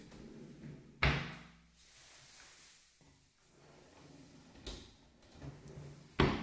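Chipboard wardrobe drawers and doors open and shut in three sharp knocking thuds with quieter sliding and rustling between them, close by and with no talk.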